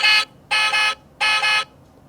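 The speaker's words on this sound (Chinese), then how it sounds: "这个是按喇叭的声音。" A toy model truck's built-in speaker plays an electronic horn effect: three loud, buzzy honks, the first short and the next two longer, each double-pulsed, with brief silences between.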